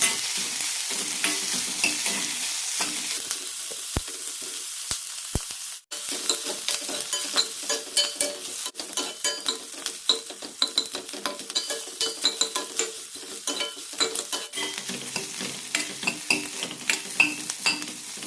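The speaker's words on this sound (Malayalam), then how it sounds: "നന്നായി വഴറ്റിയെടുക്കാം. സവാള ട്രാൻസ്പെറൻ്റ് ആയാൽ മതി," Onions are sautéed in a hot pan for a Karnataka-style coconut chutney, with a steady close sizzle broken by frequent scraping stirs of a utensil against the pan, carrying on without any talk.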